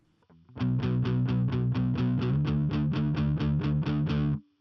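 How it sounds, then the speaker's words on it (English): Distorted electric guitar chords strummed in a steady run of about fourteen even hits, sliding smoothly from one chord shape to another, loud and close. "you need to slide from the first power chord to the second power chord"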